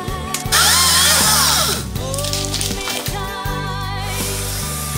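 Power saw cutting through a fallen tree blocking a forest trail by the Bārta river, a loud buzzing drone that rises and bogs down as it bites into the wood, close and continuous.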